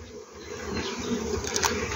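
Honeybees hum in an opened 8-frame beehive during an inspection, a soft steady buzz close by with a few louder passes rising near the end.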